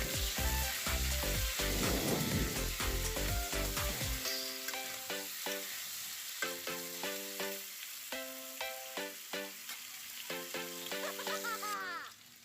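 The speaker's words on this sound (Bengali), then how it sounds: "সেই তেলের মধ্যে আর একটু তেল দিয়ে আলুগুলো আমি ভেজে নিচ্ছি।" Large chunks of potato seasoned with salt and turmeric fry in hot oil in a pan for a Bengali fish curry, with a steady close sizzle and crackle throughout and some background music over it.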